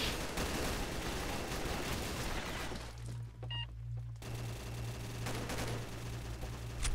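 Turrets fire in the Combat Arms shooter game, producing rapid, dense bursts of gunfire that break off briefly as a low hum and a few tones take over, then resume.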